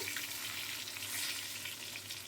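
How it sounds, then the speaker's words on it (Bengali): Fish frying in oil in a home kitchen, a steady crackling sizzle that holds at an even level for the whole stretch, close by and alone with no talking. "আমার মাছগুলো ভাজা হচ্ছে"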